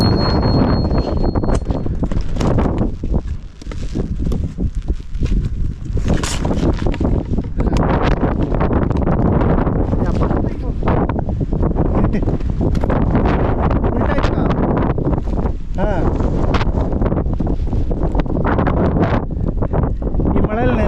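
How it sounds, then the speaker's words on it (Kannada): Strong wind buffets the microphone in heavy, rushing gusts for the whole stretch in the hills of Chikmagalur, while voices talk intermittently beneath the roar. "ಗಾಳಿನೂ ಎರಾಬಿರಿ ಬರ್ತಾ ಇದೆ"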